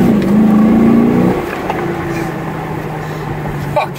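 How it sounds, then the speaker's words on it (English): A new manual Chevrolet Camaro's engine revs and accelerates loudly from inside the car, rising in pitch before easing back into a lower steady drone. "it does sound good when you step on it though"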